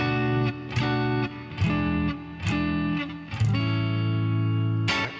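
An electric guitar plays a blues turnaround in A, a handful of plucked chords with sharp attacks moving in a steady rhythm and ending on a held chord, clean and close with no voices.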